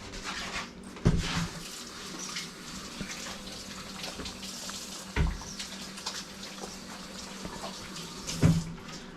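Hands are washed under a running kitchen tap after messy cooking, making a steady, moderately quiet flow of water with a few louder splashes and thumps at intervals.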